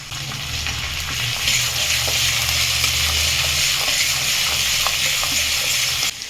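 Chopped ginger and green chilies fry in hot oil with cumin and dried red chili for tarka dal, giving a loud, continuous sizzle with light stirring scrapes before it cuts off abruptly.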